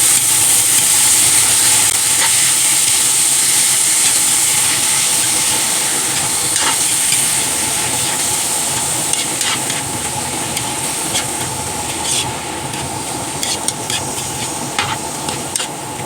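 Beef pieces sauté in a hot pan with aromatics for beef pares, a loud continuous sizzle and hiss with occasional stirring scrapes, gradually easing slightly over the sixteen seconds.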